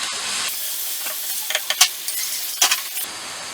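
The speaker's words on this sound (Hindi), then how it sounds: "अब हम प्याज को गोल्डन ब्राउन होने तक अच्छी तरीके से पकाएंगे" Sliced onions sizzle and crackle in hot oil while being stirred until golden brown, a steady frying hiss broken by several sharper scraping stirs, close and alone without talk.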